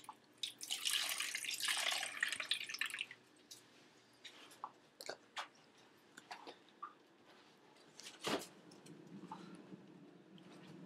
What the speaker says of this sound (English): As I put water into this ice tray, you can see how the liquid takes the form of its container